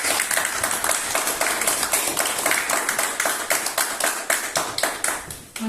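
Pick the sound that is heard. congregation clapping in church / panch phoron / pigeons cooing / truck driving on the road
congregation clapping in church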